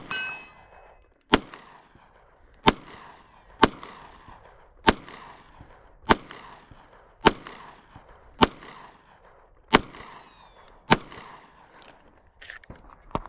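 Glock 43X pistol with its factory stock slide firing ten sharp single shots at a steady pace of about one per second on a range, each crack followed by a ringing decay, loud and close.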